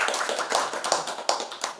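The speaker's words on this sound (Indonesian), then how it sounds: "Mari teman-teman berikan aplaus dulu untuk Bapak" An audience clapping at a school gathering, brisk overlapping hand claps filling a short burst without any voices.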